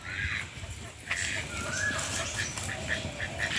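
Ducks quack repeatedly nearby, a rapid series of short calls near the end, over faint background voices and outdoor noise.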